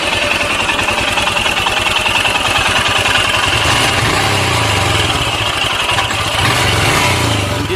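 A motorcycle engine turns over and settles into a steady, loud idle close by during a bike trip in Ladakh, a fast even thumping with no one speaking.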